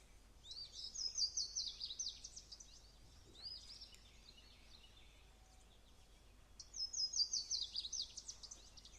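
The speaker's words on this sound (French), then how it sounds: "vous percevez le chant des oiseaux tout autour de vous" Birds sing at a forest edge: faint high chirping calls come in two clusters of rapid notes separated by a quieter pause, over a soft, hushed background with no talk.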